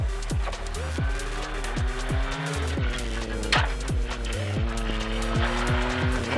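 A race car accelerates flat out through the gears, its engine repeatedly rising sharply in pitch then dropping at each quick upshift, a loud, close, rhythmic sequence of climbing revs.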